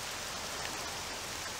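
Steady, dense rainfall in the video game Octopath Traveler 2, a continuous hiss of drops on surfaces with no pauses and no voices.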